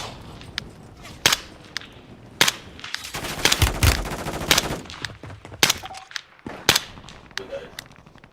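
Suppressed gunfire in Call of Duty Warzone, sharp cracking shots in scattered single reports and short bursts, with a denser burst of fire in the middle, close and punchy, no voices.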